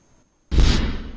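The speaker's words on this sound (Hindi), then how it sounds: "तेलंगाना भवन में आतिशबाजी भी की गई।" A firework bursts at a celebration at Telangana Bhavan in Hyderabad, a single sudden loud boom after near silence, followed by a rumbling, crackling tail.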